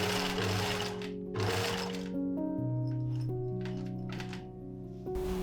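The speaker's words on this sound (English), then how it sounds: "At the last step, all the layers are sewn to the base" Sewing machine stitching gathered tulle skirt layers onto a base, a steady mechanical whirring with tonal motor hum that pauses and restarts, close and moderately loud with no talking.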